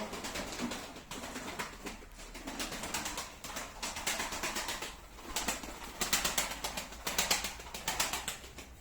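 Pigeons at a Turkish loft in Pendik, Kurtköy, flutter and coo near the ground, with repeated bursts of wing flapping rising over a steady low murmur of cooing throughout.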